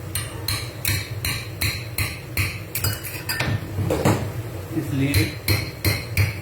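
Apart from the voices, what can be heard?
punching holes in a bottle cap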